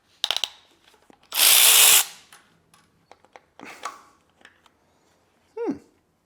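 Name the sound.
power tool removing camshafts from BMW S65 V8 engine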